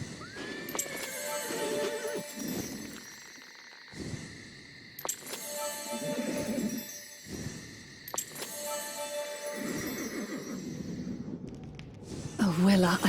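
A horse neighs and whinnies several times in a video game, with snorts and hoof sounds between calls, set against a continuous musical backdrop.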